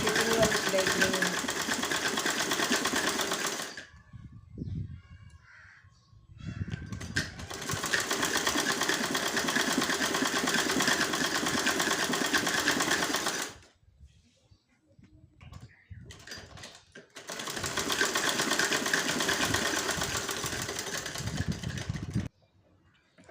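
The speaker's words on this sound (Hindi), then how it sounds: "अब इस तरह से फिटिंग वाली सिलाई करेंगे।" A sewing machine stitches the side seams of an Afghani salwar in three long, loud, steady runs of motor whir and needle clatter, separated by brief pauses while the fabric is adjusted.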